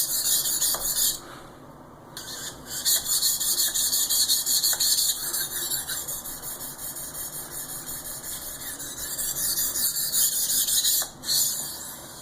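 A knife being sharpened on a stone: repeated high, hissing scraping strokes with short pauses between passes, fairly close and alone with no talking.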